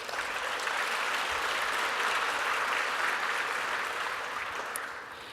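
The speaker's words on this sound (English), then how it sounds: "So can we have a round of applause for all those projects?" An audience at a KubeCon and CloudNativeCon keynote applauds award-winning projects, a steady wash of clapping from a large hall that holds for several seconds and then fades out.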